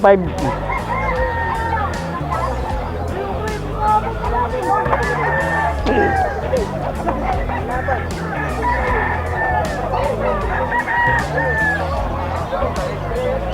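Gamecock roosters crow repeatedly at a busy fowl market in Bocaue, Bulacan, amid clucking and a steady babble of crowd chatter, with people talking nearby throughout.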